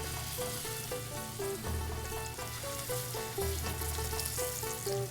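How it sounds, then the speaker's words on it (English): Steady, dense sizzling of meat searing in hot oil, continuous and close, with a faint melodic tune playing underneath. "Nice sizzle so you know it's searing."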